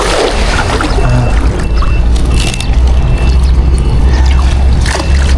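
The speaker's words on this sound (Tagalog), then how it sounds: "yung tubig po kasi na to is nanggagaling sa mga palayan" Irrigation water from rice paddies pours steadily into a dam, a loud, continuous rushing wash with low rumble that holds throughout.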